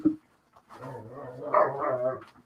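Dogs at play give a quick yelp, then a drawn-out, whining bark-howl that rises and falls. The sound is fairly faint and close, and there is no talk.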